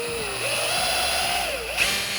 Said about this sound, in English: Grab my drill, line up my shelf.